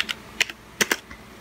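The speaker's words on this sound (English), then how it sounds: "So the next thing you want to type in is ATI Flash" Several crisp key presses on a computer keyboard while entering a flashing command for an ATI Radeon HD 5770 graphics card, a few separate clicks and a quick pair, close and fairly quiet with no talk.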